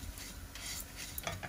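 Rice grains dry-roasting in a pan for Hainanese chicken rice, stirred with a quick scraping and rustling sizzle, soft and close with no talk.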